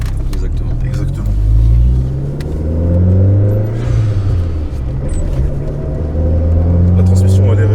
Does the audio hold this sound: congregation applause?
no